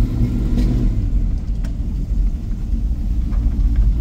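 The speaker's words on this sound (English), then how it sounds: "it's got a built motor, but it's not overly noisy. The exhaust is not overly noisy." A 1969 Chevrolet C10 shortbed pickup with a built engine and a moderate exhaust runs at a steady idle, giving a deep, even low rumble heard up close without talk.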